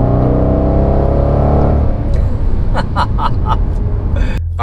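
A 2020 Range Rover Velar SVAutobiography engine accelerating, a loud, rising rev heard from inside the car, followed by a rougher engine roar with sharp crackles near the end.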